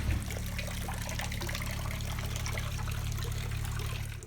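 Water pours steadily from a leak at the back of a small fishing boat, a continuous close trickling gush over a low hum.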